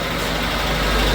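Suzuki car engine idling a little high with the carburetor and timing out of adjustment, a steady close rumbling drone with no break.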